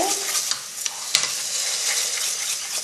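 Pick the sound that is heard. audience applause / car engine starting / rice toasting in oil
rice toasting in oil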